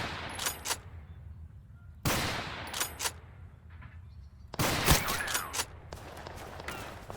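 Kar98 bolt-action rifle shots in the video game Total Conflict: Resistance: a few sharp, separate cracks with gaps between them, fairly close, over a quiet low background.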